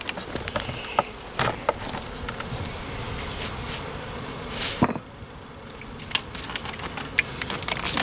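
Honey bees buzz around an open beehive, a close, continuous insect drone with sharp passing whines as individual bees fly near, plus a few small clicks and knocks.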